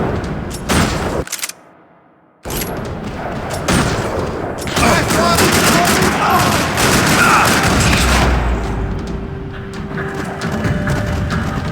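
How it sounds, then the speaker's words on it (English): Rapid bursts of gunfire echo through a parking lot in the video game Max Payne 3, loud and sustained, with a brief silent gap early on before the shooting resumes and continues densely to the end. "Another parking lot rattling with gunfire."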